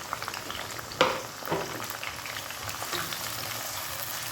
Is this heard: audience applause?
no